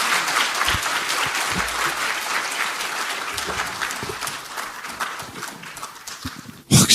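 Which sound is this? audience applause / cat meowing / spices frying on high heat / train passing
audience applause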